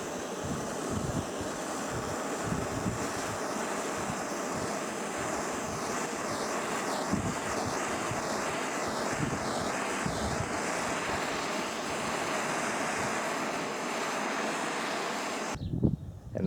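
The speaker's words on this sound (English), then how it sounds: "Now I'll just touch it up with this torch to give it a little bit of a shine." A steady, roaring hiss of a torch flame heating the metal exhaust tailpiece of a 2002 Honda XR100 motorcycle runs continuously at close range, broad and even, cutting off abruptly near the end.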